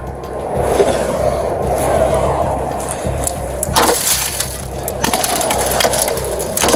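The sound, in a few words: police breaking a car window glass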